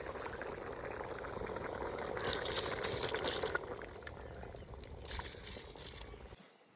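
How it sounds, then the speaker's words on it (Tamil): Soaked rice going into a boiling pot of water for mutton biryani: a steady bubbling, pouring wash with soft splashes and gentle pot sounds, fairly quiet and alone. "இப்போ அரிசியை சேர்த்துருவோம்"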